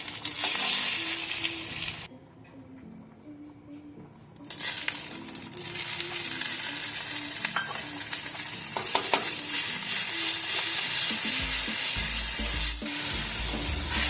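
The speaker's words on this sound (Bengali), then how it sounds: "এবার আমি মশলাটি ভালো করে কষিয়ে নেব" Whole spices sizzle and fry in hot oil in a pan for the tempering of gobindobhog rice khichdi, a steady loud crackle with stirring scrapes, a brief quieter gap, then continued sizzling with no talk.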